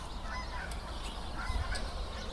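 Several geese honk faintly in short bursts over a steady outdoor background hiss, scattered and somewhat distant.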